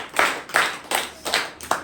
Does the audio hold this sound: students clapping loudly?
yes